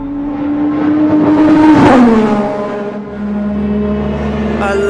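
Ayrton Senna's Formula 1 race car, driven by Lewis Hamilton, sends out a loud, close engine howl that climbs sharply in pitch, peaks, then drops back into a steady high drone with a brief upshift-like break.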